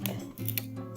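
A gum wrapper is crumpled by hand at close range, with a few quick crinkles and ticks over a low steady background hum.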